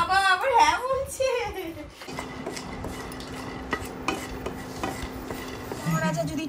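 Peanuts, chickpeas and cashews are lightly fried in a pan at home, with a spoon scraping and clinking through them in irregular strokes over a faint sizzle, after someone speaks briefly at the start.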